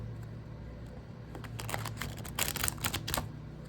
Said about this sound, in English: that's what happens when I try and shuffle the deck